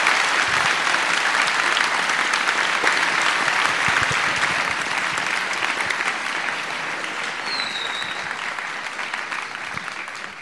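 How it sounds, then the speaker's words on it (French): Sustained, dense applause from an audience greeting a guest speaker at a CentraleSupélec symposium, loud and steady for about ten seconds before easing slightly toward the end. "je vais vous demander d'applaudir Maître Dupond-Moretti"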